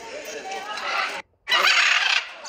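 Many parrots and other birds call together at a bird shop in Batu Pahat, Johor, a dense, continuous chorus of squawks and chatter with a brief pause partway through.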